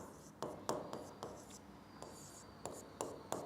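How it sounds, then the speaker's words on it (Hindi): A pen writes on a surface with quiet scratchy strokes and sharp taps at each new mark, coming in an uneven rhythm and heard close up in a hushed setting. "तो मैं यहाँ पे लिखता हूँ"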